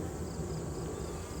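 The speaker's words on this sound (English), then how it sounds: "definitely tons of bees." Honey bees swarm around an opened hive during a beekeeping inspection, producing a continuous low droning buzz that holds steady and fairly close throughout.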